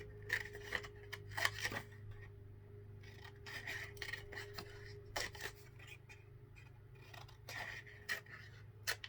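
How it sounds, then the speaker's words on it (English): Scissors snipping through paper to cut out a scrapbook image, giving a series of short, close, quiet rasping cuts in an irregular rhythm over a low steady hum. "so now I'm just cutting the teeth out"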